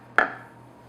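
A knife presses through cornmeal scone dough to cut it into wedges, one crisp single chop that strikes the board and fades quickly in a quiet kitchen.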